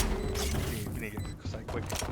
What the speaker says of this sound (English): Reloading.